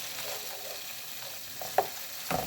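Spices sautéing in a small wok give a quiet continuous sizzle, with a couple of short spatula scrapes and knocks near the end.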